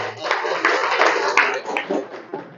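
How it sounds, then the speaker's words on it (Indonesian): A classroom audience breaks into dense, steady applause, many hands clapping together close by for a couple of seconds. "Tepuk tangan untuk kalian."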